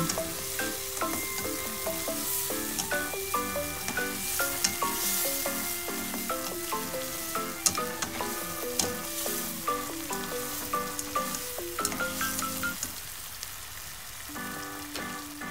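Pork belly and string beans sizzle in a pan with soy sauce and vinegar while a spoon stirs them, a continuous close frying hiss marked by regular scraping strokes, with no talking.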